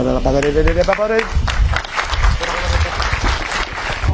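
A voice trails off into a crowd's applause, with steady clapping from many hands continuing to the end.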